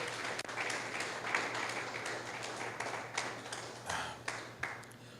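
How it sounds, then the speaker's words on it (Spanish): A church congregation applauds during a sermon, with soft, scattered clapping and a few sharper individual claps over a low steady hum, fairly faint and distant. "Dele un aplauso a Cristo Jesús,"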